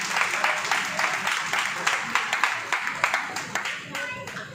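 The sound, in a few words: audience applause at an award ceremony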